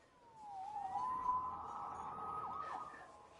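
A wailing emergency siren in the Spider-Man 2 video game rises and sweeps steadily at moderate volume, holding for a few seconds with faint background hum and no talk.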